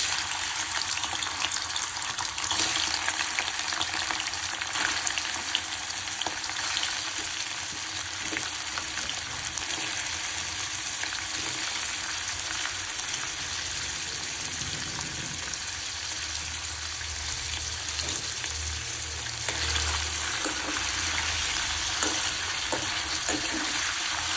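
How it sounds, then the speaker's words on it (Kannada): Paneer fries in hot oil in a kitchen pan, a continuous, even sizzle and hiss that carries on for the whole span with no talking. "ನಾನು ಪನ್ನೀರ್ ಹಾಕ್ತಾ ಇದ್ದೀನಿ."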